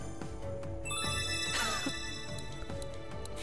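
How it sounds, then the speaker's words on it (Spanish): A telephone rings in a football video game, a repeating electronic bell pattern sounding over steady in-game background noise, fairly loud and close throughout. "Ah, te llaman por teléfono."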